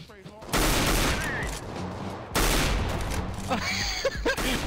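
Gunfire in a Counter-Strike: Global Offensive match comes in two loud, dense bursts of rapid automatic shots, followed by scattered lighter game effects and clicks.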